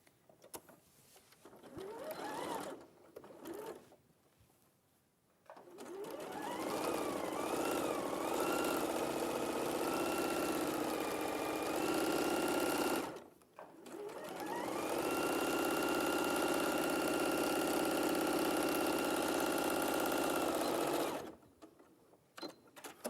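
A sewing machine runs at speed in two long bursts, stitching the shoulder seam of a top, with short starts and pauses in between, close and steady with a whirring hum.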